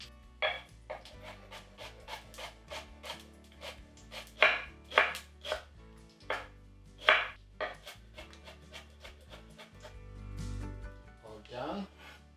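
A knife chops a shallot on a cutting board in quick, irregular taps, close and distinct, with faint low background hum between strokes.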